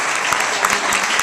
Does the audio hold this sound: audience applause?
yes